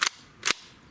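Two sharp cracks from an AEA Megalodon air rifle fired outdoors at a 45-yard target, spaced about half a second apart, loud and close with no voices.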